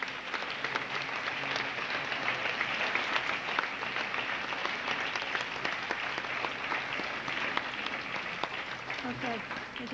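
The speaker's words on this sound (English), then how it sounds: "Let's have a nice round of applause for our commended students." Audience applause for commended students at a 2004 Wayne Hills High School senior awards ceremony, a steady sustained clapping from a crowd that carries on without a break, with some voices faintly mixed in underneath.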